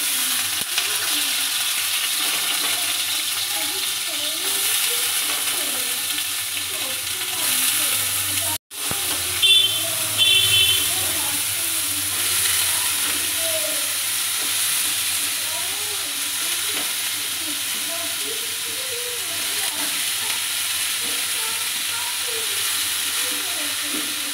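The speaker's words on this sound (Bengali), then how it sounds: "তো এর মধ্যে তেল গরম হয়ে এসেছে, এবার আমি সবজিগুলো দিয়ে দিচ্ছি।" Vegetables fry in hot white oil in a kadai, giving a steady sizzle with soft stirring scrapes that runs throughout and pauses briefly once.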